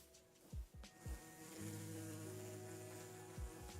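Minecraft bees buzzing, a close insect drone that hums steadily, with a few swooping passes drifting nearer and away.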